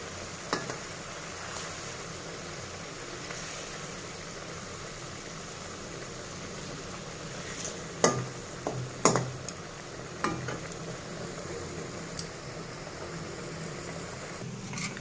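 Egg frying in a pan on a home stove, with a steady low sizzle throughout and a few sharp clatters of the spatula and pan around the flip midway, fairly close and with no talk.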